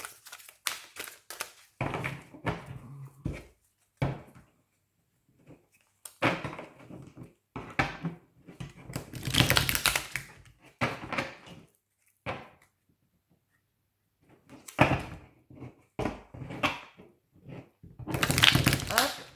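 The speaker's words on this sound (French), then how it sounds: "je mélange mes cartes." Oracle cards are shuffled in bursts of crisp, papery riffling and crunching, starting and stopping irregularly with quiet gaps between handfuls, close and moderately loud.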